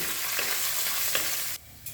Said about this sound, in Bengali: এবার কাজু কিশমিশটাকেও ঘিয়ের সাথে মিশিয়ে নিয়ে হালকা করে ভাজা ভাজা করে নিচ্ছি